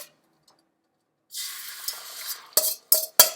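Fork stirring beaten omelette eggs in a hot oiled pan, a steady sizzle starting after a quiet moment, then several sharp scraping bursts near the end.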